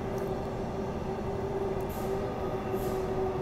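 Train running on the line toward Elizabeth Quay station, heard from inside a carriage: a steady, loud rumble of wheels and motors with a constant hum and faint brief squeals, continuous throughout with no talking.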